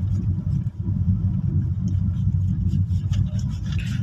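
A car drives along an unlit road at night in Kenya, its engine and tyre rumble a steady, close, low drone throughout with no talk.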